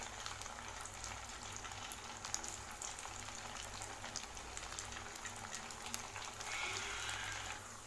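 Vermicelli pakoda frying in hot oil over a medium flame, giving a steady, close sizzle and bubbling crackle that holds at an even level throughout, with no voices.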